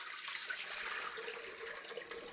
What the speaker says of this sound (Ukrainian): вливаємо каструлю.